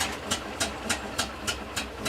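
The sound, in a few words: restored WWII half-track engine running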